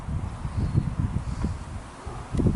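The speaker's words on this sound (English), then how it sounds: "if you hear the wind, that's all that is" Wind gusting outdoors around a horse grid-work arena with rails and domes, a steady low rumble of microphone buffeting that surges and eases in uneven pulses, strongest near the start and end.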